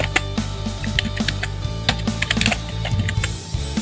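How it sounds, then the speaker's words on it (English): Quick, uneven clatter of keys on a computer keyboard as a command is typed into a Windows 11 command prompt, close and crisp over a steady low background hum. "Now we'll type"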